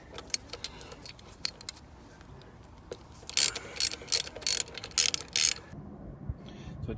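Rapid metallic clicking of a ratchet with a 6mm hex socket undoing a pipe on a VW 2.0 TDi engine, sounding in short bursts of clicks with pauses between, close up.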